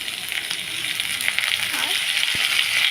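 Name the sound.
onion and tomato frying in a pan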